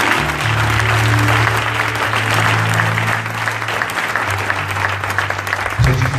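A church congregation applauds steadily to acclaim the Lord, dense sustained clapping filling the room from start to finish, with a low background hum beneath it.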